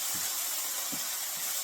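Worcestershire sauce splashed into a hot pan to deglaze it, giving a steady loud sizzling hiss of steam that runs the whole way through, with a few soft low bumps underneath.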